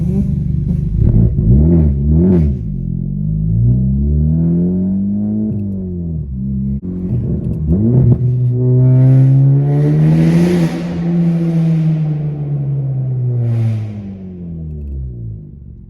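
A 2021 Honda with a Tomei Type D exhaust and catless downpipe and front pipe revs hard and loud, its raspy engine note climbing and falling through several blips and longer pulls, close by and alone.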